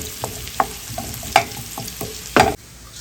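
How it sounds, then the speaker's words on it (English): Onions frying over medium heat with a steady, close sizzle broken by several sharp spatula scrapes and stirs, the last one loudest before the sizzle drops off. "You're only gonna fry these onions for about 2 to 3 minutes."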